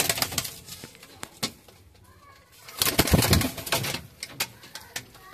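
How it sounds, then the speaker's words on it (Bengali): Pigeons of fancy breeds such as Dobuzz, Kalanka and Andhra coo and stir nearby, with low soft calls, a brief flutter and scattered sharp clicks and taps, some louder bursts rising mid-way. "পায়রাগুলো উড়ানো দেখাবো আপনাদের"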